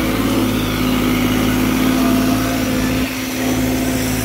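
New Holland 3630 Special Edition 4x4 tractor working a field with a Maschio 8-foot super seeder, its engine a steady loud droning hum throughout, dipping briefly near the end.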